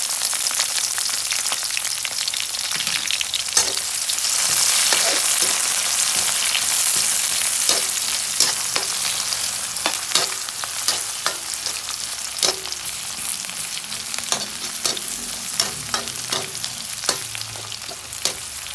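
Mung beans cooking in a pan give a steady close frying hiss, broken by frequent sharp clicks and scrapes of stirring throughout.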